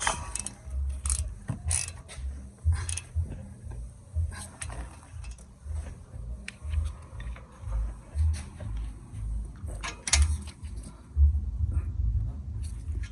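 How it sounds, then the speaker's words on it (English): A ratchet wrench loosens bolts on the front brake of a 2013 Volkswagen Beetle 2.5. The pawl clicks close up in repeated rhythmic bursts, with metallic clanks in between and no talking. "Alright, so now I'm gonna use wrench."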